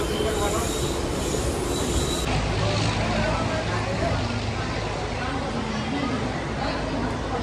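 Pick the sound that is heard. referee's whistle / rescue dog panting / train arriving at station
train arriving at station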